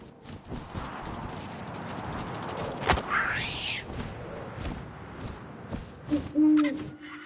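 An owl hooting in the video game What Remains of Edith Finch, a clear rising hoot standing out over a windy game soundscape scattered with soft thumps and low booming hits.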